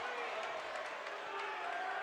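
A high school basketball crowd in a gym reacts to a foul call with a sustained murmur and rumble of voices, fairly even and steady, with a commentator speaking over it.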